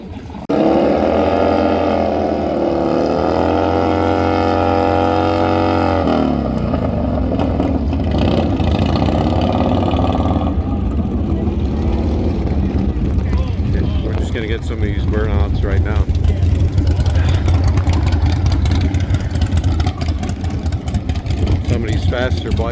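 Drag racing motorcycles at Byron Dragway, loud engines revving and roaring up through the gears close by, with wind buffeting the microphone and the note shifting as bikes launch and pull away.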